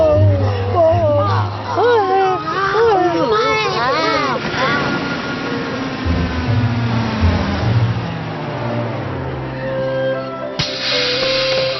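An amphibious motor car's engine revs and drones with splashing and wind noise, while people talk and shout excitedly over it, the engine's pitch rising and falling in sweeping runs.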